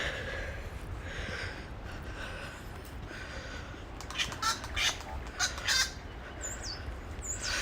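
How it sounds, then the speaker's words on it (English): A wattlebird gives several harsh, croaky calls in short bursts toward the end, fairly near, over quiet outdoor ambience. "Now that is a wattle bird."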